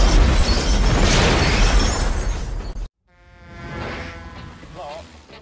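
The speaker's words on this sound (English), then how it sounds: "A bomb is made to explode." A bomb blast in a Speed movie trailer, a loud roaring boom with crackling debris that cuts off abruptly, followed by a rising tonal musical swell.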